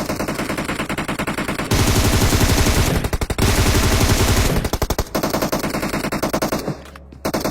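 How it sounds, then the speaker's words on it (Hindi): Rapid automatic gunfire rattles out of an apartment in a video game, loud and close, in long sustained bursts with short gaps between them. "मेरे को फायरिंग की साउंड आने लगी थी अपार्टमेंट से, बहुत ही खतरनाक वाली"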